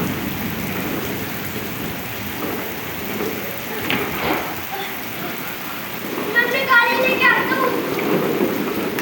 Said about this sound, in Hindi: हुई बहुत तेज़ बारिश हो गई